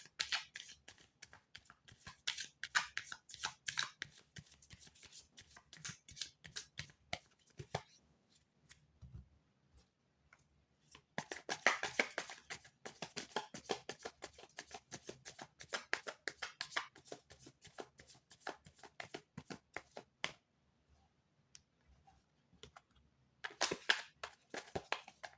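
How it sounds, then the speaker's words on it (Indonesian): Tarot cards being shuffled by hand, close crisp riffling and flicking in quick bursts with short pauses between handfuls, a few soft taps and quiet gaps between runs. "Saya akan mulai mengocok kartunya."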